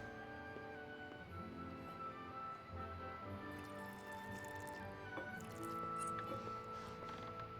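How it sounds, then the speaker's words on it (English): A drink is poured into a cup in a medieval castle setting in Kingdom Come: Deliverance, a soft, quiet liquid trickle and dripping under faint background music. "Pour us a drink."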